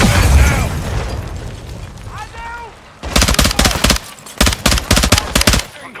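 Call of Duty: Modern Warfare 2 combat: a rocket-propelled grenade launch and explosion rumble low and loud, followed by a rapid sequence of close, punchy gunfire bursts in the last three seconds.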